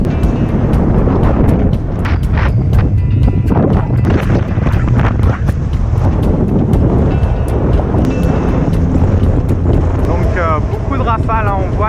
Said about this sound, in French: Rafale, on voit il n'y a vraiment rien de régulier, hein, ça tire, on peut passer de 25 à 35 en quelques secondes